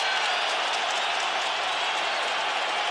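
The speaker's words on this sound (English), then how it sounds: "Brooklyn crowd getting behind these 2 warriors." A Brooklyn crowd at an MMA fight cheers and applauds steadily throughout, a loud, dense roar of clapping and voices filling the arena with no let-up.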